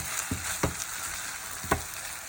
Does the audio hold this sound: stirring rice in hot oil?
yes